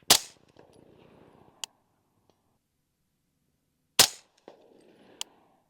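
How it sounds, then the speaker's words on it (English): LWRC M6A3 DMR rifle fitted with an LWRC 7 suppressor, fired twice with sharp suppressed cracks about four seconds apart, each followed by a brief ringing tail and faint metallic clinks. "The Lwrc with the Lwrc 7 suppressor is extremely comfortable to shoot."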